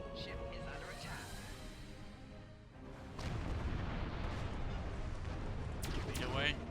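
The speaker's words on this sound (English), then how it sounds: "Firewall weapons, spacebar. And torpedo away." Torpedoes fire during ship combat in the Star Trek Online space game, producing rumbling booms and bursts over a constant dense background of game sound effects that gets louder partway through.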